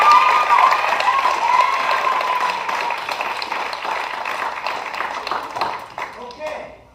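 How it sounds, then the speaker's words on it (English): An audience at a summer jazz band class applauds a young percussionist, a lively round of clapping that starts loud and gradually thins out, with voices faintly mixed in. "let's give him another round of applause"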